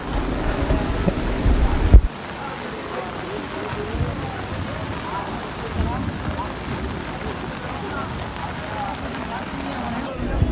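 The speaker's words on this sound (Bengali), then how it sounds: "বৃষ্টি এখনও পড়তেছে যদিও।" Steady rain falls over a nearly empty open-air village market, a continuous wash of patter with a louder burst of low rumble in the first two seconds before settling into an even, moderate hiss.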